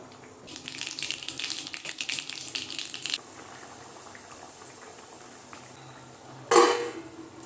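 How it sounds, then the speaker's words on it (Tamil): Prawns for prawn thokku go into a hot cooking pan, a loud frying hiss for about three seconds that fades to a low simmer, followed by a sharp metallic clink of a utensil on the pan. "இப்போ இறாவை போட்டுடலாம்."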